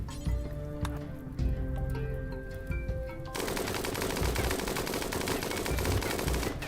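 Rapid automatic gunfire in the video game RimWorld, dense crackling bursts that continue throughout, becoming a louder, continuous fusillade partway through, with no talking.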